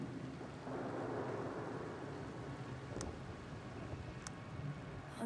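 Steady rain and rumbling thunder from a stormy scene in an atompunk science puzzle video game, a continuous broadband wash with two brief sharp crackles, no voices.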